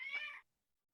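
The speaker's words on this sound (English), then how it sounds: "My cat is being crazy next to me." A pet cat lets out a single short, fairly quiet meow nearby, followed by silence.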